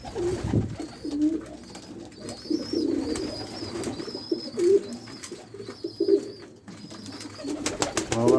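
Pigeons in a coop give repeated soft, throaty coos in a steady rhythm, near and moderately loud, with a faint higher chirp toward the end.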